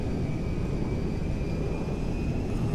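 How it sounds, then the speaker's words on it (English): A cargo plane flying in the video game GTA V gives a steady, unbroken engine drone with a deep rumble and a faint high whine running throughout. "Fly the cargo plane back to Mackenzie Field."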